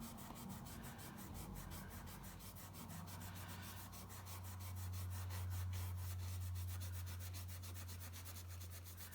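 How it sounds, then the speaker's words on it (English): Steady, quiet rubbing of a metal tag with Brasso-soaked wadding through a stencil, a continuous scratchy friction with a rapid back-and-forth rhythm, close up with no talking. "then you just start rubbing"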